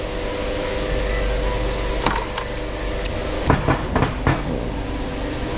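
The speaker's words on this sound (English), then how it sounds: "That's a shaker." A vibratory parts shaker tumbling engine parts such as rocker arms, springs and bolts with aluminum pellets, a steady rattling hum in the background of a workshop with a few sharper clicks and knocks, no talking.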